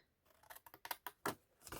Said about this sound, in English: I'm using a smaller pair of scissors. So again, you're going to cut straight up